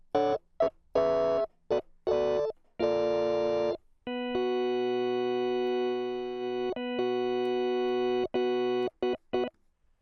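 Organ played through a tape emulation effect in Logic, for a 70s soul-style beat: short staccato chords, then longer sustained chords, ending in quick stabs, close and clean with no voices.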